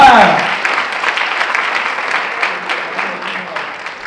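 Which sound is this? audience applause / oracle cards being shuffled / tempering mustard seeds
audience applause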